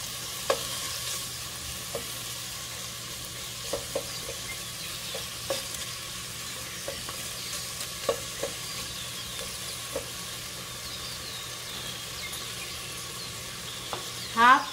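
Vegetables for a mung bean stew cooking in a pan, a soft continuous sizzle broken by regular light clicks of stirring, with a louder scrape right at the end and no talking.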